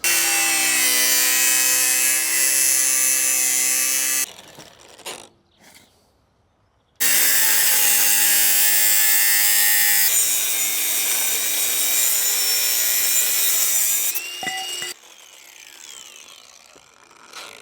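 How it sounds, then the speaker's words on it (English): A saw cuts through the plastic guard of a tractor PTO shaft in two long, loud, steady stroking bursts, separated by a pause with light handling noises and ending with quieter scraping. "We cut the plastic off"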